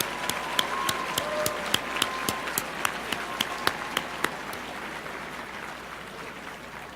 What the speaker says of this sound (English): Let's give another round of applause for the father of our Constitution